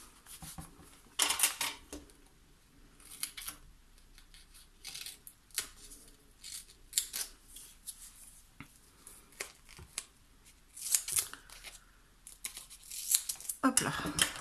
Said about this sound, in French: Donc je me sers des petits ciseaux anti-adhésifs.